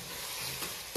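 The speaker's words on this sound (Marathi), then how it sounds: "ते कांदा परतायचं चालू आहे" Onions sautéing in a pan with ginger-garlic paste for chicken biryani, giving a steady close sizzle and stir that lasts the whole second, with no voices.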